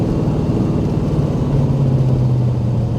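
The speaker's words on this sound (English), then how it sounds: "That's a small block Chevy" A cammed LT1 small block Chevy V8 with a Comp XFi 292 camshaft idles close by, a loud, steady low rumble with an even, throbbing lope throughout.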